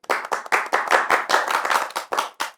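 Rhythmic hand clapping at the opening of a talk show, a dozen or so close, crisp claps in quick uneven succession from a small group, heard alone without talk.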